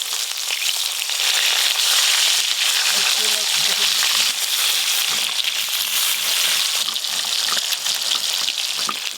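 River fish frying in hot oil, a dense, steady sizzle and crackle that stays loud and close for the whole stretch with no pauses.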